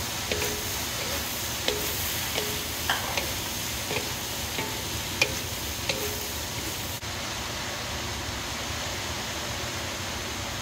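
Vegetables for lumpiang gulay egg rolls cooking in a pan, a steady soft sizzle with occasional light clicks of stirring, fairly quiet and without talk.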